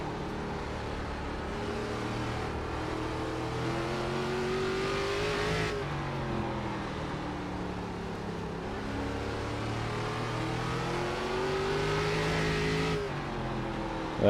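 An ARCA stock car engine in iRacing revs and accelerates hard, its rising pitch climbing through gear changes over a steady, loud mechanical drone with no voices.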